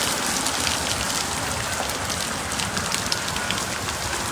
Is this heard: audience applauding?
no